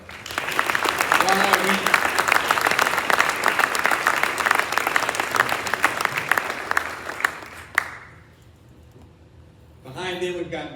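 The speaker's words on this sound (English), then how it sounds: "Give them a round of applause." A crowd at a military retirement ceremony bursts into loud, sustained applause that fills most of the moment, then cuts off sharply and a voice resumes speaking near the end.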